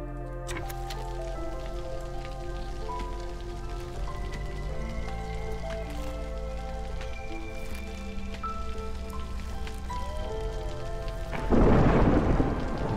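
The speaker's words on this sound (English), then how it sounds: "The storm is coming." A rainstorm with thunder rolls through the video game Against the Storm: steady rain and a low rumble sit under layered game music tones, then a loud, close thunder crash bursts out near the end.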